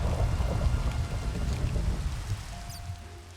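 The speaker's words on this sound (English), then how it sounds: "thunderstorm" Minecraft thunderstorm: steady heavy rain hiss with deep rolling thunder rumble dominating the low end, easing slightly toward the end, no voices.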